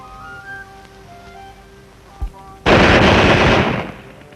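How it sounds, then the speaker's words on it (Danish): A sudden loud burst of rapid gunfire fired at a crowd erupts after a quieter stretch, sustained for about a second and a half before cutting off, with one sharp crack just before. "Der blev affyret nogle skud mod mængden."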